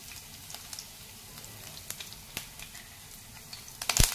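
Finely chopped garlic hits a hot oil tempering with bay leaf, cloves, peppercorns and cumin, crackling in scattered faint pops and ticks over a quiet sizzle, ending in a louder burst of spattering.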